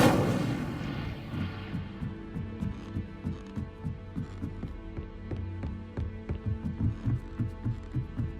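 Incendio fire spell from the Hogwarts Legacy video game: an opening whooshing burst that fades into a low hum with steady rhythmic throbbing pulses, no talking.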